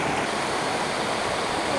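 Small river running across a farm property in Campo Bom, Brazil, giving a steady, close rush of flowing water for the whole short stretch with no pauses.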